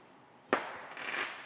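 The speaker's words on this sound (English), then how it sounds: "Oh, hey, we've got some fireworks." Fireworks going off outside at night: one sharp, distant bang followed by a softer crackling rumble, faint and with no talk over it.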